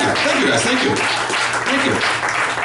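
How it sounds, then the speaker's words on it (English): A comedy-club audience claps continuously in a dense, loud wash of applause with scattered chuckles, as a performer briefly speaks over it. "if you wanna roll back that applause for my nobility a second ago"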